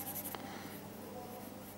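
Ballpoint pen shading a military-perspective drawing of cubes on paper, a steady soft scratching and rustling close by with no talk.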